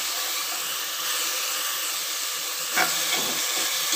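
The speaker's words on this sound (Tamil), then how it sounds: "இப்போ இந்த இஞ்சி பூண்டு சின்ன வெங்காய பேஸ்ட்டோட பச்சை வாசனை போகிற வரையும் நல்லா வதக்கிடலாம்" A ginger, garlic and shallot paste sautés in a pan with a continuous hissing sizzle, joined by a short stirring scrape near the end.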